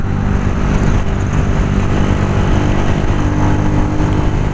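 A Honda CG 125 SE motorcycle rides along in traffic, its 125 cc engine a loud, steady drone with wind noise close to the microphone.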